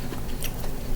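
A bite into a homegrown cucumber, giving a short crisp crunch followed by a couple of faint wet chewing sounds, close up and quiet.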